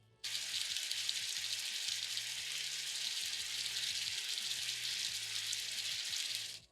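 Chopped potatoes sizzle and fry steadily in hot cooking oil, a dense, continuous crackle that holds close and even throughout with no voices.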